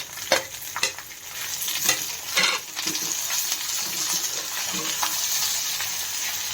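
Chopped onion and tomato hit hot oil with sautéed grated coconut for a tender-cashew vegetable curry, giving a close, steady sizzle with several sharp scraping stirs at the start that settle into even frying.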